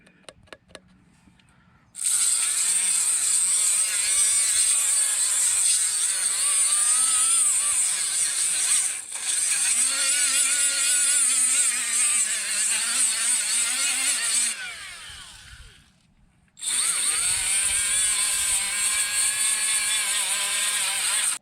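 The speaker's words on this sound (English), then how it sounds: "die grinder here and polish that up" A die grinder polishes a metal wheel bearing part from a Kubota L3830 tractor, a loud, steady high-pitched whine running in long stretches, briefly dropping off once before spinning back up.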